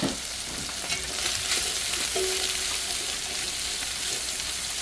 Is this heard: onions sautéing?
yes